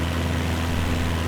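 Cessna R172 Hawk XP engine and propeller in a flight simulator, a steady loud propeller drone with a low harmonic hum as the prop pitch is pulled back and the RPM drops.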